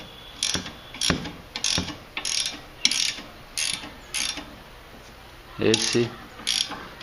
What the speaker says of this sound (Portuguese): é o jeito correto de se soltar e, evidentemente, no sentido contrário, de se apertar a bieleta.